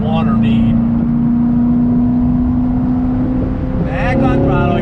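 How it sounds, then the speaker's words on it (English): C7 Corvette Grand Sport engine pulling hard on throttle from inside the cabin, a loud steady drone that climbs slightly toward the end. "Back on throttle, here we go."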